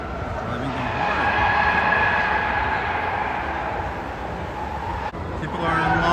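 Tire squeal from cars driven hard inside an auto show, a sustained high screech fairly loud under a speaking voice, with a brief cut near the end before the squealing resumes.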